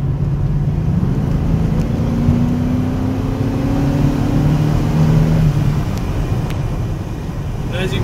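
A 1988 Mercedes-Benz car engine drones steadily throughout at an even level, with a faint rising tone partway through.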